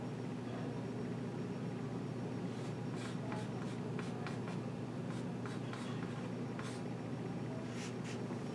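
Marker or chalk writing on a board makes a series of short scratchy strokes over a steady background hum, moderately close.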